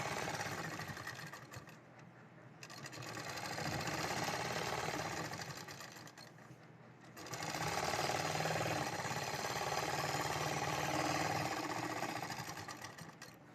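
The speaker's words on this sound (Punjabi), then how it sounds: "ਤੇ ਇੱਕ ਸਿਲਾਈ ਆਪਾਂ ਨੇ ਇੱਥੇ ਲਗਾਉਣੀ ਹੈ" A sewing machine stitches a salwar design in a steady, continuous mechanical whirr that rises and falls in speed, with two brief pauses, and no talking.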